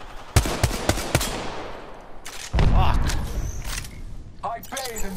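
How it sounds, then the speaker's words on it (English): Gunshots in the shooter Apex Legends, Kraber sniper rifle, a few sharp loud cracks spaced apart, then a heavier burst of fire amid clattering battle noise, with a voice talking over parts of it. "They spotted me. I'm taking shots."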